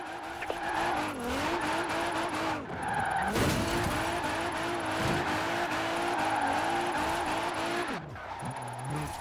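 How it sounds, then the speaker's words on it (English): A drifting car in Forza Horizon 4 screeches its tires in long, wavering squeals as the engine revs and shifts, loud and close, sustained through continuous slides. "Now let's really shred those tires."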